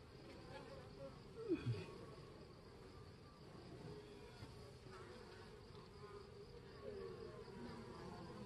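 Honeybees of Carniolan, Saskatraz or VSH stock buzz steadily around an open Langstroth hive being inspected, a soft continuous hum close by with a couple of brief louder passes near the start.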